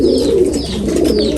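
Pigeons cooing in a loft on a foggy morning, soft low rolling coos repeated close by, with faint higher call notes.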